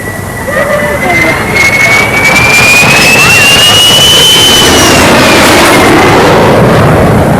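Very loud jet roar from a de Havilland DH-110 fighter flying at the 1952 Farnborough Air Show, a heavy sustained rumble with a rising then falling whine, with a voice speaking over it.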